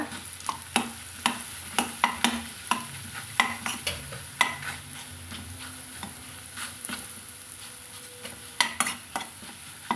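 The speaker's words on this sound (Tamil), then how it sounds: "இதை போட்டு நெய்யில் கலந்து விட்டுக்கலாங்க" About 300 grams of mashed sweet potato is stirred into hot ghee for halwa, with a rhythmic series of close spoon scrapes and knocks over a soft, constant sizzle.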